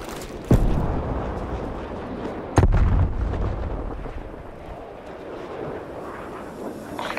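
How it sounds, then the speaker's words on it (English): Two heavy artillery blasts boom in the game Black Ops Cold War, each sudden impact followed by a rumbling tail, amid continuous battlefield noise with no voices. "Incoming artillery."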